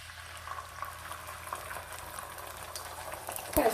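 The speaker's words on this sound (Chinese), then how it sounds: "炒锅预热后，我们倒一点点油， 油热后倒入鸡蛋" Beaten eggs go into hot oil in a preheated wok, a soft crackling sizzle near and fairly quiet, ending in a sudden louder burst as they hit the oil.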